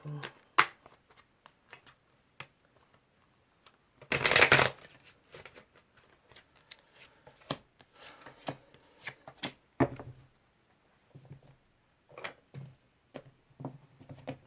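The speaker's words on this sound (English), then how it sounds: "All right, one more shuffle." Tarot cards being shuffled by hand, with scattered soft riffles and taps and one longer burst of rapid riffling, close and quiet, with some talk nearby.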